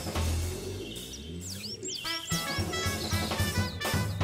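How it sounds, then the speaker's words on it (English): Birds chirp and trill in quick bright whistles over a bouncy nursery-rhyme backing, with several overlapping calls and no voices. "the birds began to sing"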